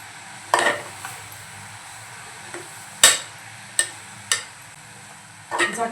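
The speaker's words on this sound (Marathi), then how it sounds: "छान वाफ आलेली आहे। एकदा आपण फिरवून घेऊया।" A spoon stirs dal palak in a pot, giving a few scattered scraping clinks against the metal over a faint sizzle, close and fairly quiet, with no talk.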